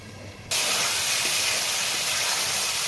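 Potatoes and chicken mince drop into a hot pan for a Bengali chicken keema, setting off a sudden loud, steady sizzle that swells after a quiet start and keeps hissing evenly to the end, with no talking.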